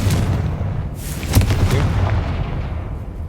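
A Confringo spell explosion in Hogwarts Legacy: a loud fiery burst with a sharp crack near the middle, over a continuous rumbling game background.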